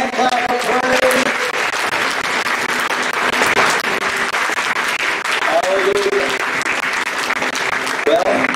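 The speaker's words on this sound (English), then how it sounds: "Come on, give the Lord a hand clap of praise." A church congregation claps in praise, making a dense, sustained burst of applause from start to finish. Voices call out over the clapping now and then.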